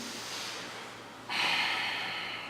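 Close, audible breathing during a yoga hip-opener pose: a soft airy breath, then a stronger, brighter nasal exhale midway that carries on steadily to the end.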